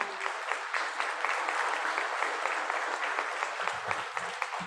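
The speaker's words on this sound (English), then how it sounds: "Yeah, let's have a round of applause." An audience applauds at a city's State of the City address, a sustained round of clapping with crisp individual claps audible, moderately loud and even throughout.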